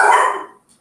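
A small dog gives one short, close, loud bark that fades quickly, heard alone without talk.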